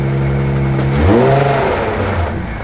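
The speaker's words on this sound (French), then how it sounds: "Il fait un bruit pas catholique, hein? Non, c'est les Vanos." A BMW M5 engine runs loud and close, its steady drone rising in pitch as it revs and then settling back, carrying an odd noise from a faulty Vanos system.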